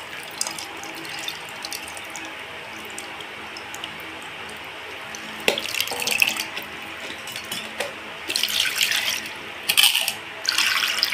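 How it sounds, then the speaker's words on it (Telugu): Water poured from a vessel into a pot of sambar, heard near the end as several splashing, gushing pours in short bursts over a steady low background hum, close and clear, with no talk. "ఇప్పుడు మళ్ళీ ఇంకో చెంబు కూడా పోసింది అందులో నీళ్ళు పడతాయి ఇంకా."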